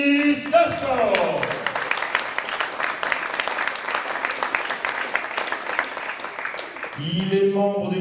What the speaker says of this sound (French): Merci d'applaudir Kiris Dashkov